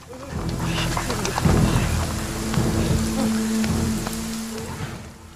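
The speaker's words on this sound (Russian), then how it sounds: "Дождь пошел." Steady rain pours down, a dense hiss with low rumbling underneath, fairly loud and continuous.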